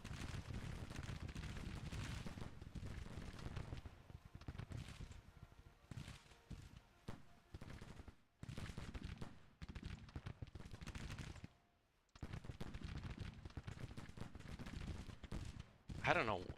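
Musket volleys and cannon fire in a Civil War strategy video game, a dense continuous roar of crackling rifle fire broken by brief pauses, with a voice speaking over the battle.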